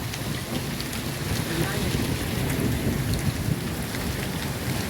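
Heavy rain pours steadily during a windy thunderstorm with hail in Bagasara, a dense, loud wash with low rumbling thunder beneath it throughout.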